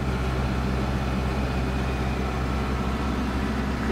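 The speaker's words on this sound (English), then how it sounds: "creeping along at 1 mile an hour, I could go faster, but gotta keep adjusting my blower so it doesn't pick up too much gravel" Snow blower creeping at about one mile an hour along a gravel driveway, a steady close engine drone with a low hum and a constant gritty churn, continuous and unbroken.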